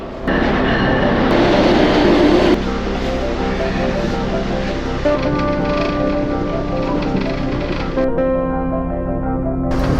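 An Amtrak train at Philadelphia station rumbles loudly and steadily nearby, with a mechanical hum and a high whine that shifts midway, continuous throughout.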